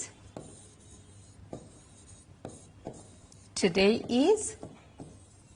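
Chalk or marker taps and scratches in short separate strokes while writing on a board, faint and spaced out, with a voice speaking briefly near the end.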